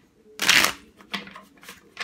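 Tarot cards are shuffled in a quick riffle, followed by a few softer flicks and taps of the deck, close and crisp with no talking.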